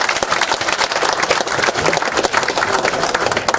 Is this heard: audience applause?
yes